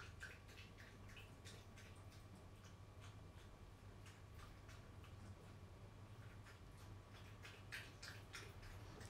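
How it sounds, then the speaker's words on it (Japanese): Coco the pet lapping water, a faint, quick run of small ticking laps, steady and close against a quiet background hum. "ココちゃんが水飲んでる音、ぴゃんぴゃんぴゃんって"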